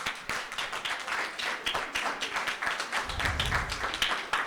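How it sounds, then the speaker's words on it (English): An audience claps for presentation groups at an invention event, a dense round of applause that stays moderately loud and steady throughout. "So if we could get one more round of applause for all of our groups."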